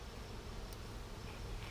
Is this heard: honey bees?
yes